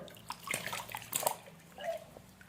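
Water is poured over a person's body during an outdoor-style bath, coming as irregular splashes and sloshing bursts with a few drips, close by and without talk.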